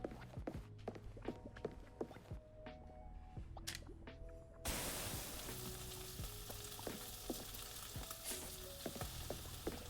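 Fish being stirred in a frying pan in the restaurant simulator game Chef Life, with a steady sizzle that swells midway and carries soft, repeated stirring clicks throughout.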